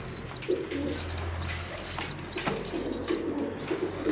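Young pigeon chicks in a nest give thin, buzzing calls and soft repeated peeps alongside low cooing, close and fairly quiet, with a faint steady hum underneath.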